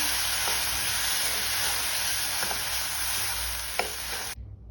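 Food is stirred in a pan just after the stove is switched off, a steady soft sizzling hiss with a few faint scraping knocks, close by and without talking, ending abruptly.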